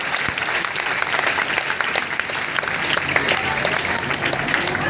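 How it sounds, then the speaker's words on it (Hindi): An audience at an indoor meeting in Ara, Bhojpur, bursts into loud, dense applause that stays strong and continuous for the whole stretch. "Please give a big hand, जोरदार तालियां इन सभी लोगों के लिए।"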